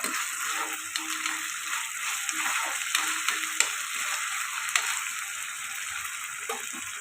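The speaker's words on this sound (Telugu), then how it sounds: "అల్లం వెల్లుల్లి పేస్ట్ వేసుకోవాలి ఇది కూడా పచ్చివాసన దాకా ఫ్రై చేసుకోవాలి" Onions and ginger garlic paste frying in a pan for a dhaba-style paneer curry, a steady close sizzle running throughout with occasional stirring scrapes and no talk.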